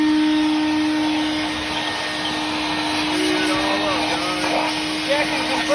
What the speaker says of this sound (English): It's not the greatest compressor.